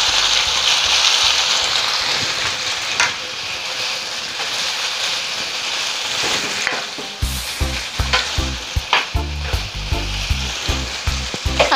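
Soy sauce poured into chicken paksiw in a hot pan, a steady sizzling hiss that bursts into loud crackling frying with rhythmic stirring scrapes toward the end, close up and without speech.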